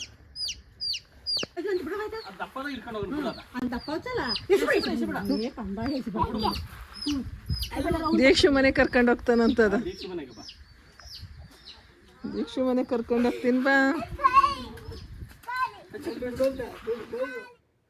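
Native country chickens cluck and squawk close by in repeated bursts, with short pauses between the flurries of calls.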